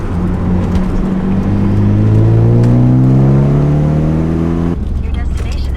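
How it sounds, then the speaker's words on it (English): A 1998 Eclipse drives along, its engine droning and rising in pitch as it accelerates through a gear, then dropping off sharply near the end, loud and close from inside the car. "we made it back to the shop in our new Eclipse"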